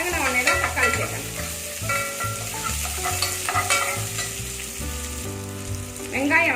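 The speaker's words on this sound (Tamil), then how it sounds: "வெங்காயம் வதங்கிடுச்சு" Shallots and green chillies sauté in hot oil for sambar, a continuous loud sizzle with stirring scrapes, while music plays underneath.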